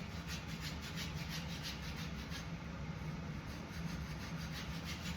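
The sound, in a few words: blade on a plain belt removing flakes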